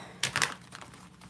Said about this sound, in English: Let me give these a good shuffle before we move on.